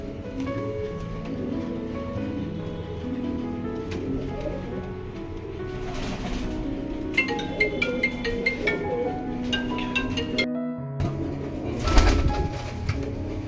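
Pigeons coo and call in a loft among a flock of fancy birds, soft repeated cooing layered over steady outdoor background noise, with occasional brief bursts of rustling and wing sounds.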